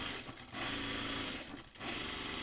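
A sewing machine runs continuously, stitching jacket fabric with a fast, even mechanical whir that dips briefly twice as the pace changes.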